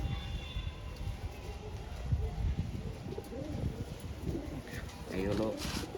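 Giribaz pigeons coo softly in a low, throaty burble, a few brief calls beneath someone talking nearby.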